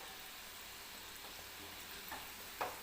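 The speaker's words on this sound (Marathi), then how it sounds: "मीडियम गॅसवरतीच हे भजी मी तळून घेते" Mysore bonda bhaji fry in hot oil over a medium gas flame, giving a soft, steady hiss with a couple of faint spatters near the end.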